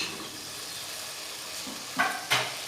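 Food frying in a pan for chicken rice, a steady soft sizzle running throughout with a couple of brief louder bursts of stirring near the end.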